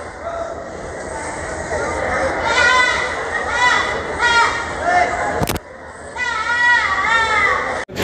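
Goats at the Deonar livestock market in Mumbai bleat in several loud, wavering cries close by. The calls rise over a busy crowd murmur, and a voice talks throughout.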